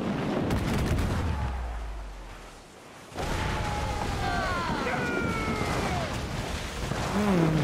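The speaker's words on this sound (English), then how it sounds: "Fire! Right there, Captain! Fire! Mortars incoming!" Mortar and cannon fire during a naval battle in Assassin's Creed IV: Freedom Cry, a dense, loud barrage of booms and rumbling blasts mixed with whistling, wailing tones, continuous throughout.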